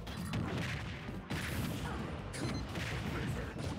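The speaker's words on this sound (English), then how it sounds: "Snake is gonna hang out and throw projectiles and cause explosions" Explosions from thrown projectiles in Super Smash Bros Ultimate form a dense, continuous roar of booms and crashes, loud and sustained with several sharp bursts layered over game noise.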